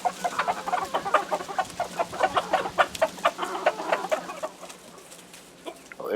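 Chickens, including roosters, cluck loudly as they rush out of an opened coop, a rapid burst of overlapping clucks up close that thins out toward the end.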